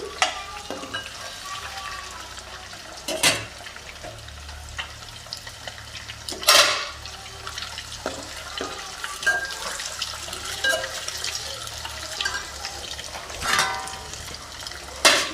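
Eggs fry in hot oil with a loud, continuous sizzle close by, broken by a few sharp spattering bursts as they are turned, with no one talking.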